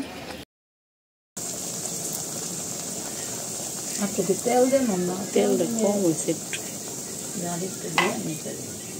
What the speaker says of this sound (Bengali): তাই লুচিগুলো ভাজা হচ্ছে এখন।